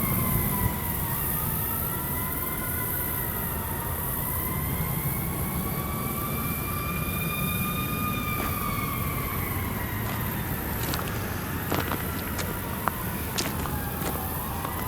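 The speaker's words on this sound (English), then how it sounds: "I don't know what that siren is." A distant emergency-vehicle siren wails in long rising and falling sweeps over steady outdoor background noise beside a riverbank in Valley Park, Missouri, with a few brief clicks near the end.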